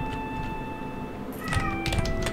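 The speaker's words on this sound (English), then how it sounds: "What are you meowing about?" A cat meows a couple of times, fairly close, over a low background hum with faint steady tones.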